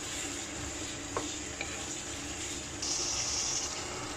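Red and green capsicum with carrots being stirred in a pan, a soft steady sizzle with a couple of faint utensil taps, quiet and continuous with no talking.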